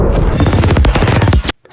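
A massive explosion erupts in a creature movie scene, a loud sustained roar with crackling bursts that lasts about a second and a half before cutting off abruptly into silence.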